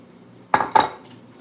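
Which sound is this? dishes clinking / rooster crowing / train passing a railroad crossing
dishes clinking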